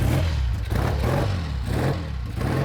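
A Speed Twin motorcycle engine runs after a kick-start, a loud, close, throbbing idle with a steady rhythmic chug and mechanical clatter.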